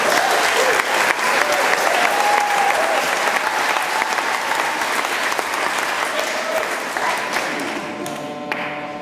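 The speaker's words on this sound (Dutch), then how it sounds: "Applaus voor Leo." A crowd in a Utrecht church applauds for a long stretch, a thick even wash of many hands clapping, with faint voices mixed in, tapering off as it ends.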